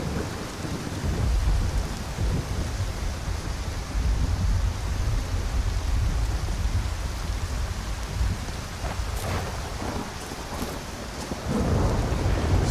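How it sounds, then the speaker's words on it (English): Steady heavy rain with rolling thunder in the video game Skyrim, a dense continuous wash of downpour that swells in places, with sharper rumbles and crackles near the end and no talking. "Hiding from the rain."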